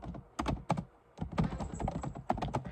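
Quick bursts of typing on a computer keyboard, close and fairly quiet, with a brief pause between runs of clicking keys.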